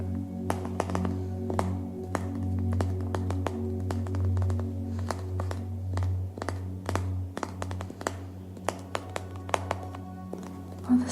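Crisp ASMR tapping, a long run of sharp fingertip taps at a close, quiet level, some in quick bursts and others spaced apart, over a steady low hum.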